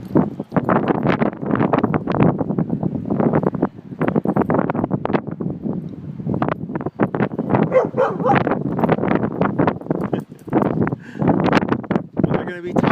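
A pack of dogs at a dog boarding yard barks in repeated bursts throughout, close and loud, mixed with yips and whimpers, while someone talks over them.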